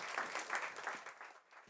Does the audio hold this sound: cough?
no